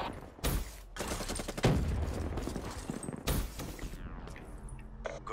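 Rapid bursts of automatic gunfire from a game gun, loud and dense in several long volleys with brief gaps, followed by quieter mechanical clatter near the end.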